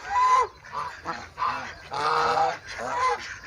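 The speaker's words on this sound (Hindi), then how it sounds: "बड़ी ये गीज़ जो हैं, ये गूज़ भी हम इसको कहते हैं" Several geese honk loudly at a mini zoo in Shergarh, harsh nasal calls arriving in repeated bursts and overlapping close by, with no talk.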